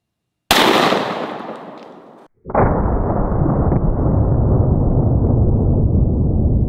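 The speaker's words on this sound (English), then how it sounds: "So we shot 9 pellets, and it looks like 3 hit Mr. Zombie here" A sawed-off 12 gauge shotgun fires buckshot in two loud, close blasts, the first with a long decaying tail and the second followed by a sustained roaring rumble that holds to the end.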